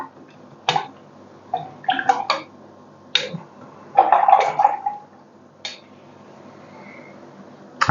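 A paintbrush rinsed in a water jar between colours during acrylic painting, with bursts of close swishing and clinking taps against the container separated by quiet gaps.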